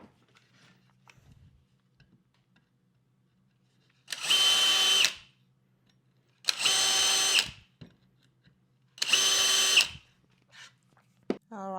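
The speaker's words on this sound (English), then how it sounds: "the countersink has to be on this other side because I'll be screwing it from the back" A power drill countersinks screw holes in a wooden tablesaw spline jig, three loud bursts of roughly one second each, separated by quiet pauses, with faint handling noise between them.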